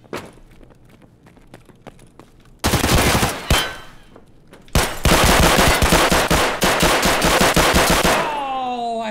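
Gunfire in the video game Escape from Tarkov: scattered shots and footsteps at first, then two loud bursts of rapid automatic fire, the second long and sustained, ending with ringing metallic tones.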